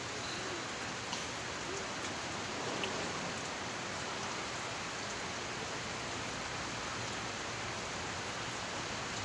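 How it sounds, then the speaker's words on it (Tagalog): Steady heavy rain pours down without a break, a dense, even hiss of drops filling the whole clip with no voices. "Walang humpay ng ulan."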